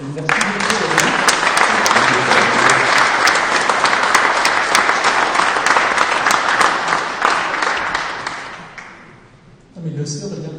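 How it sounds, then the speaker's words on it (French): A hall audience at a prize draw event bursts into loud, sustained applause lasting nearly ten seconds, dense clapping that tapers off before a voice speaks over the room at the end. "Je demande à la salle de t'applaudir"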